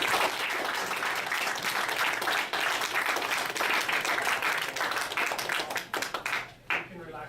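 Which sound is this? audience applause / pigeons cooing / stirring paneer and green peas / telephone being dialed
audience applause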